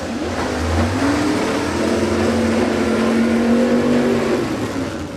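Two Camaro drag cars, a first-gen and a later 1972–73 second-gen, rumble and rev steadily at a drag racing event, the loud engine drone holding for several seconds with rising pitch sweeps.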